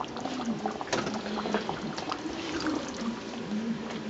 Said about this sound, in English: Let that cook for about 5 minutes, and let the sauce thicken a little bit.